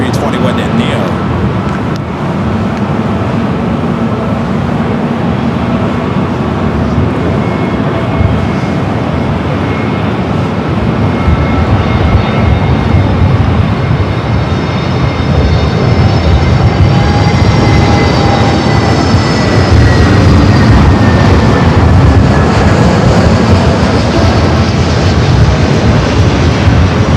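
A Delta Airbus A321neo jet at LAX makes a steady, loud engine roar with a rising whine, continuing throughout while someone talks over it.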